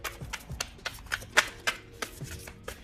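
Quick riffle-shuffling of a tarot card deck, a series of short crisp flutters and taps repeating unevenly, close and fairly quiet, with no voices.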